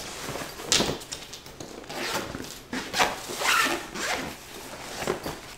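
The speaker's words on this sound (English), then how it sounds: "let's go ahead and unzip this." A zipper is pulled open around a CowboyStudio continuous photo lighting kit carrying case in several close, scratchy strokes with short pauses between them.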